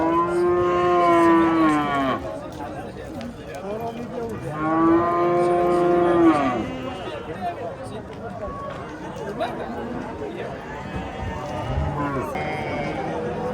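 Cattle moo loudly several times at a busy livestock bazaar in Yangiqurgon, Oqdaryo, with long drawn-out calls near the start and middle, over steady crowd chatter and people talking.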